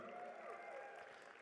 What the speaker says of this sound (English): Let's thank you for that warm applause